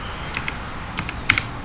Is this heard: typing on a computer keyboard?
yes